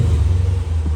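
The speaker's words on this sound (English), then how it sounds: "Give it a couple revs for you guys." A 2020 Dodge Challenger Scat Pack with the 392 Hemi 6.4L V8 and factory mufflers gives a loud, deep, steady rumble at close range, sustained for a second as it revs.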